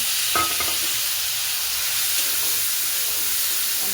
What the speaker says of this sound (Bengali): ভালো করে সাঁতলে নেওয়া হবে।